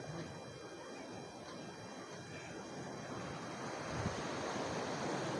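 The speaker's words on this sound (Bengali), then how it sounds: "দেখেন ঢেউয়ের সমুদ্রে কি গর্জন" Sea waves roar and wash steadily at Colombo, Sri Lanka, with a constant rushing surf, swelling slightly louder toward the end, heard outdoors with some wind.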